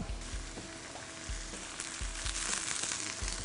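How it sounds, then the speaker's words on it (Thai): Mee kueng noodles stir-fried with soft tofu in a hot pan give a close, dense sizzle with rhythmic low thumps of the spatula, steady throughout, with no talking. "ใส่มีกึ่งลงไปเลย เพิ่มน้ำนิดนึงครับ"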